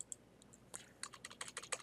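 Typing on a computer keyboard while searching a dictionary: a quiet run of separate clicky keystrokes in an uneven rhythm, sparse at first and then quicker, with no voices.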